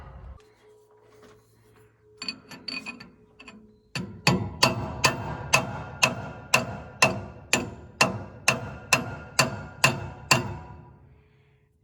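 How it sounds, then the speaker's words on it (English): A hammer drives a punch against a bearing race from the right-hand hydraulic sheave of a Gleaner R72 combine. About a dozen sharp metallic strikes ring out at a steady, even rhythm after some quieter clinking. "I may get a hammer and punch and kind of peck on this side right here"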